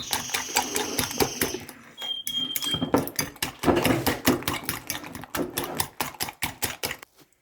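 Eggs are whisked briskly in a bowl for a potato and minced meat tortilla, making a rapid series of sharp clicking strokes against the bowl, close and fairly loud, with a brief pause near the start.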